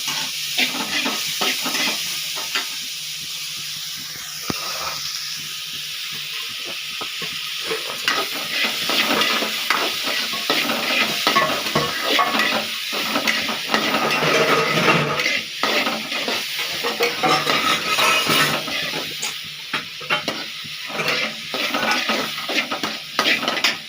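Onions sautéing in a pan for a Tamil-style tomato chutney, with a steady loud sizzle and frequent scraping stirs against the pan, with no talk.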